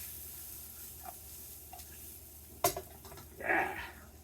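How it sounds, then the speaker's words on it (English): Pasta being stirred in a pot gives a faint background sizzle, broken by a sharp clack of the utensil and a brief louder scraping swirl near the end. "And I'm stirring the pasta so that everything gets separated"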